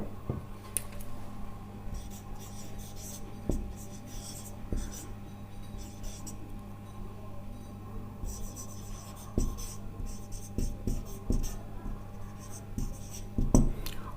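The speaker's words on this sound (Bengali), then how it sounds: "এখন আমি এই 3টা বিষয় একসাথে একটু লিখতে চাচ্ছি।" A pen scratches across paper in short irregular strokes, close and quiet, while chemistry notes on energy levels are written under a steady low electrical hum.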